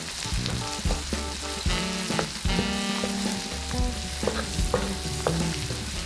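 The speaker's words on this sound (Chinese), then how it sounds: "接着放入葱花、大蒜碎以及姜末，这时可以把火力转为中火" Scallions, minced garlic and ginger frying in oil over medium heat for mapo tofu, a busy sizzle punctuated by clinks and scrapes of a spatula against the wok, with no one speaking.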